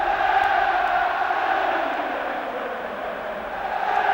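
Stadium crowd at a Lazio v AC Milan football match, a steady loud wash of massed voices and chanting from about 58,000 fans, continuous with no clear peaks.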